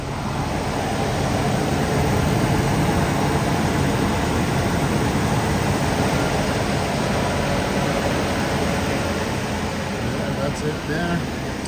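A small Class A RV's engine idles with the engine cover closed, giving a steady, muffled broadband drone and low rumble that holds constant from start to finish with no talking over it.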